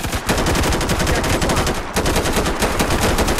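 Rapid automatic gunfire in a video game rattles on continuously in fast bursts, loud and close, with only a brief break partway through.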